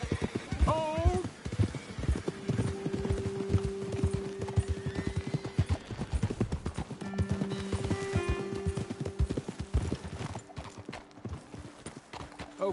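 Hooves clop in a steady rhythm as horses move along in a video game, with a horse whinnying and voices talking over the gait.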